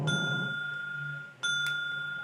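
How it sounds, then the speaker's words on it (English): A bell on a game show dings twice, each a clear sustained tone ringing out, the second following just over a second after the first, close and bright over a quiet background. "That's the damn bell."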